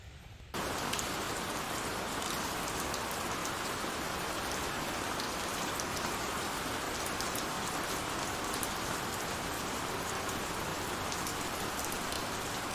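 Steady rain pours down on surfaces around a kayak campsite during a thunderstorm, a dense, loud, continuous hiss with no pauses and no voices.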